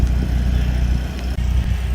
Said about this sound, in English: Sorry for the noise in the generator